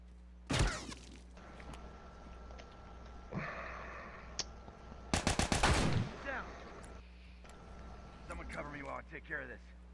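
Bursts of gunfire in a multiplayer shooter game, with a sharp volley near the start and a dense rapid burst midway, loud and close, mixed with clattering game effects and a voice talking over parts of it.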